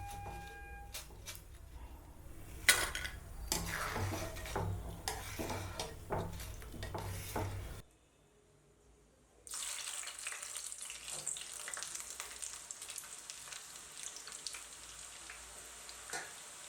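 Ragi ribbon murukku dough frying in hot oil, a steady crackling sizzle that drops out briefly before returning brighter and busier, with no talking.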